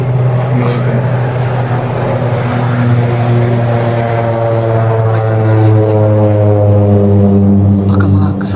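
A propeller airplane drones overhead, a steady loud hum with layered engine tones holding for several seconds, close and constant, with faint speech mixed in.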